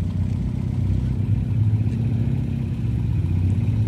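A Honda D15-engined car with a new exhaust idles and runs at a rainy car meet, a low, steady rumbling drone with a raspy, motorcycle-like clatter, close by.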